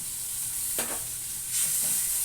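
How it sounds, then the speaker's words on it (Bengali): Ground spice paste with a little water fries in a pan after onions, a steady hiss broken by two short bursts of stirring and scraping. "পেঁয়াজ ভাজা হয়ে গেছে দিয়ে দিলাম বাটা মশলা অল্প জল দিয়ে কষিয়ে নেব"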